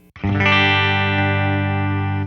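A Fender Jaguar Classic Player Special HH electric guitar on its bridge pickup rings out a single sustained, distorted chord, loud and close, holding steadily for about two seconds before cutting off.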